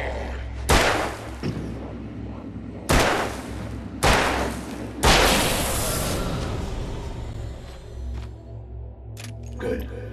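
Gunshots in the video game Alan Wake: four loud, sharp blasts about a second apart, the last with a long echoing tail, then smaller clicks and thumps over a low ambient hum.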